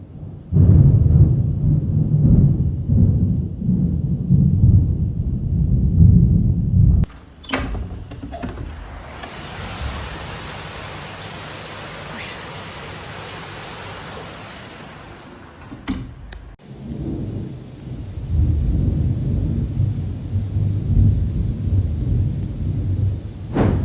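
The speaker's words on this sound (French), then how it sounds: "Mais des orages, des éclairs, une pluie, mais une pluie." Heavy rain pours down during a night thunderstorm in Bali, with deep rolling thunder rumbling loudly near the start and end and a dense, hissing downpour filling the middle stretch.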